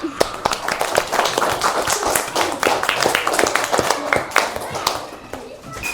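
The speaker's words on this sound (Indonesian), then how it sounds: "Tepuk tangan untuk kita semua." Primary school children in an Indonesian classroom clapping together after a science lesson, with sharp, uneven claps close by and children's voices mixed in throughout.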